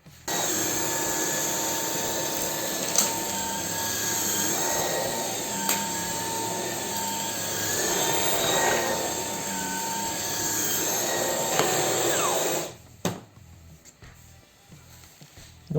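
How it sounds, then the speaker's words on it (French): A Jimmy JV85 cordless vacuum cleaner runs with a steady, loud high-pitched whine and airflow hiss close up, holding constant for about twelve seconds before cutting off abruptly. "j'ai tendance à passer l'aspirateur et revenir vers moi"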